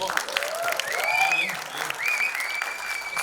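Audience applause and whistles greeting actress Sonam Bajwa at a Mumbai film promotion event, a steady, dense wash of clapping with crowd noise and a voice over a microphone riding on top throughout.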